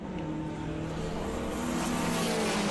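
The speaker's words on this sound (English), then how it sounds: "that sounded like a second gear launch to me" A drag-racing car at the Santa Pod VW drag racing nationals launches in second gear, a steady loud engine roar holding across the whole stretch with no pause.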